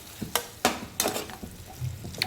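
Kalvan masala, an oyster-style vegetable masala topped with plenty of fresh coriander, stirred in a pan: a few sharp scraping strokes of a spatula against the pan over a faint steady sizzle, close and alone.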